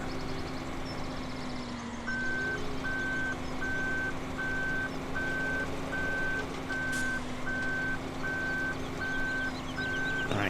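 A truck's reversing alarm beeps in Farming Simulator 17 while a trailer is backed around a corner. Evenly spaced beeps repeat for about eight seconds over a steady engine drone, and no one speaks.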